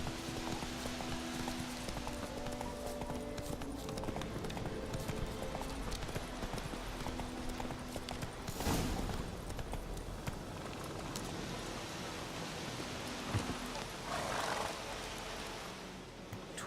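Horse hooves clop in a fast galloping rhythm in a video game, continuous and close throughout, layered with ambient game sounds and occasional louder effects.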